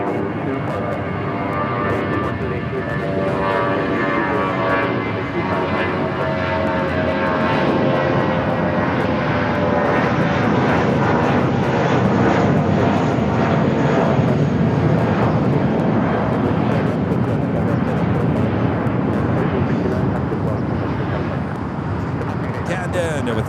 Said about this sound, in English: Flight taken off was United Airlines Flight 1469 heading to Jackson Hole on that A320